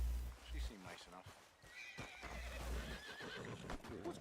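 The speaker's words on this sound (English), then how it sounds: "What's got this horse spook" A spooked horse in Red Dead Redemption 2 whinnies loudly with a shaky, wavering neigh, mixed with hoof clip-clops and snorting, while voices speak over it.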